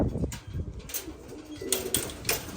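Pigeons coo in low, repeated murmurs close by, mixed with rustling and handling bumps as a female pigeon is taken out.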